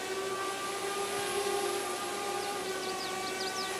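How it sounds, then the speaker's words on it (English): A slightly bigger drone flies in Farming Simulator 22, giving off a steady, droning whine with constant tonal hum layers, moderately loud and unbroken, with faint chirpy sounds toward the end. "I'm using my slightly bigger drone today, so it might be a little bit noisy"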